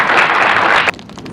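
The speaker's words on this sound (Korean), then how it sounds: "큰 박수 다시 부탁드립니다" Applause from an audience at a formal hall ceremony: a loud, dense wash of clapping that holds steady for under a second, then cuts off abruptly into a quieter room.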